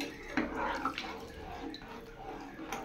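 Water is poured into a pan of spiced cauliflower being cooked, a close splashing gush with some sizzle and a quiet voice over it.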